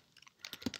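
A few quick, soft keystrokes on a computer keyboard as a terminal command is typed, light clicks bunching toward the end of a very short moment.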